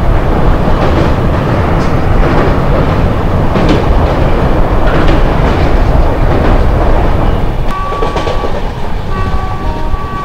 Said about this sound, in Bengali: আমাদের ট্রেন রঙ্গিয়া জংশন থেকে ছাড়লো।